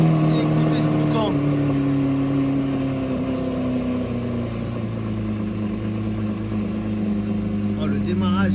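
A supercar engine on a Paris street gives a loud, steady, close rumble that hums throughout with little change.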